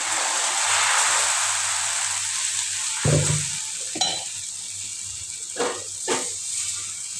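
Vada batter fries in hot oil with a steady, bright sizzle and hiss, broken by a few clinks and scrapes of a utensil against the pan.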